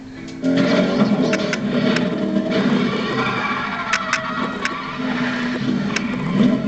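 Engine of a McLaren SLR Mercedes with a 5.5-litre supercharged V8, a steady, loud mechanical drone that swells slightly near the end, with sharp ticking transients over it and no speech.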